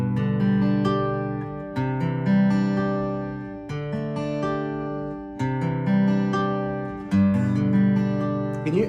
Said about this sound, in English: A trick I often tell people to do is work on picking down each string.